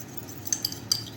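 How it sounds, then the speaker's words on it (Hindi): Eggs beaten with spices in a bowl for cheesy Korean-style omelette rolls, heard as a few faint, quick metallic taps of utensil against the bowl over soft background noise. "अंडों को फेंट लेते हैं ताकि इसका मसाला अच्छी तरह से मिक्स हो जाए"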